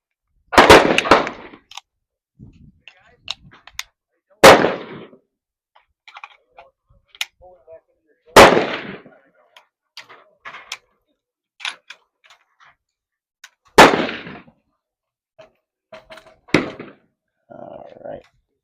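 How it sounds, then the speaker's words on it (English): Rifle shots fired at a 100-yard outdoor range, a string of sharp, loud cracks spaced several seconds apart, with faint clicks and handling noises between them and no talk. "I'm going to run 3 round shots and make adjustments there."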